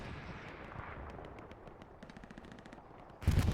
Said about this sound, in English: More explosions going on over there at the 5 points.